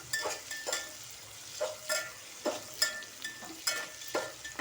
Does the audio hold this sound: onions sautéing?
yes